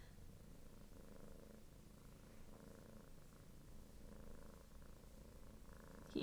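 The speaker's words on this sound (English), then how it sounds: "I have my cat laying on my lap and he's purring very loudly" A cat lying on a lap purrs in a steady, low, rhythmic rumble, close to the microphone and quiet, with a brief bump at the very end.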